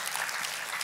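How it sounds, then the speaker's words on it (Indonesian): Congregation applause in a church service, a brief wash of many hands clapping, fairly soft and distant, lasting under a second. "Kita kasih tepuk tangan yang meriah buat Tuhan kita."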